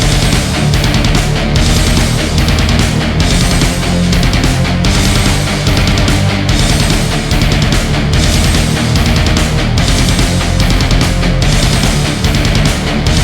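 Industrial metal synth stack produced in Logic Pro, now joined by a deep sub bass and a punchy kick drum, a loud, full, unbroken mix with regular rhythmic hits driving underneath the thick sustained layers throughout.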